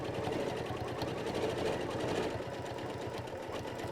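A sewing machine runs steadily, stitching a quilt along a deep oval mini arc template, its fast even mechanical chatter continuing close and unbroken for a few seconds.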